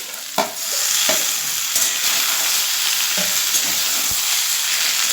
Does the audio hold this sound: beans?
yes